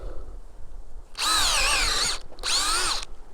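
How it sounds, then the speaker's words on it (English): A power drill whines loudly in two bursts, the first longer, with a brief pause between, the pitch wavering as the bit bores a shallow tap hole into a maple tree. "You don't typically need to drill too deep"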